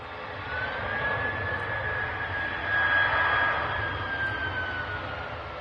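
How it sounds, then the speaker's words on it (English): Aer Lingus jet airliner touching down, a broad steady roar of jet engines with a faint rising whine, held loud and continuous throughout. "we've got the Aer Lingus touching down"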